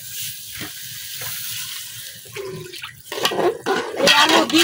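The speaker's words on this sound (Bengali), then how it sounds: "এখন দিয়ে দিলাম পানি" Water poured into a pot of potato and egg curry, a gushing splash that grows louder and fuller toward the end, close to the pot with some clatter of the vessel.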